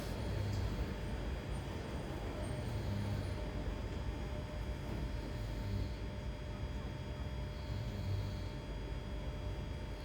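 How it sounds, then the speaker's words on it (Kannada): Inside a train leaving Shinjuku for Tokyo, a low, even rumble and hiss of running rail noise continues without a break, with no voices. "ಈ ಟ್ರೈನ್ ಶಿಂಜುಕಿಂದ ಟೋಕಿಯೋ ಹೋಗುತ್ತೆ ಸ್ಟಾರ್ಟ್ ಆಯಿತು ಹೋಗೋಕ್ಕೆ"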